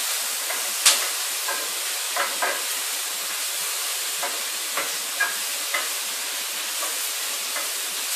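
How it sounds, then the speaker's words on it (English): Philly cheese steak filling sizzling in a pan, a steady bright hiss broken by occasional soft scrapes and clicks from stirring, close and without voices. "I'm going to give this another stir."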